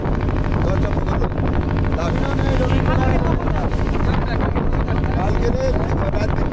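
A boat crossing rough waves in the Sundarbans, with a steady loud engine drone and continuous wind buffeting the microphone, while voices talk throughout.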